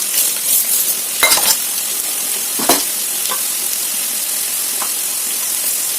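Chana dal and urad dal fry in hot oil for tempering, giving a continuous close sizzle with a few scraping stirs of a utensil near the start.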